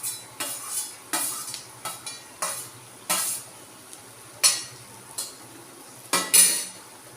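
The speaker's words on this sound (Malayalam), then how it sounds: "നന്നായിട്ട് ഇളക്കുക." Ginger and garlic stirred in a hot pan for a Malayalam-style fish curry, a spoon scraping and clinking against the metal in irregular bursts over a faint steady sizzle, close and without talk.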